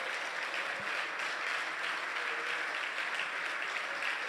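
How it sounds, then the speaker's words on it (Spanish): A church congregation claps loudly and steadily, a dense sustained wash of applause with no break, with faint talk buried underneath. "dale un aplauso fuerte"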